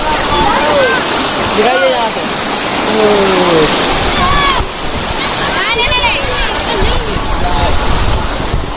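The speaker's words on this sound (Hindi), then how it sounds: "झरना उनके घर में घुस रहा है" Floodwater pouring like a waterfall into a submerged house during a Bihar flood, a steady loud rush of water throughout, with a voice talking over it and birds or whistles chirping.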